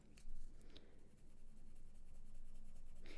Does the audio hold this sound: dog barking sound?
no